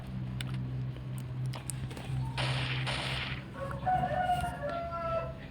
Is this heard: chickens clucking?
yes